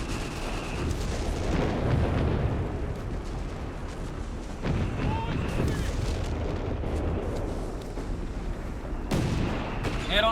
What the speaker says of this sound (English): There we go, another bombardment here out of the howitzer, looking to silence it.